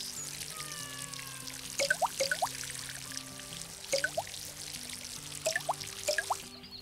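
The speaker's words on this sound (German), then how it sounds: "Werden wir bitte nochmal alle schnell fertig gießen." Plants are watered in the Garden Simulator video game, with soft pouring and trickling water over gentle background music and a few short bright rising chimes.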